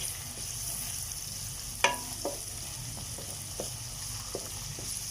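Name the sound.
crushed fried onions added to frying gravy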